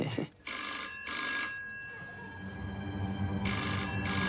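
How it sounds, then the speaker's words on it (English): An old-style telephone rings indoors in a kitchen with green cupboards, two double bursts of a bright electric bell separated by a pause, loud and close, with low room noise and a faint voice between rings. "And the phone rings and it's the boss."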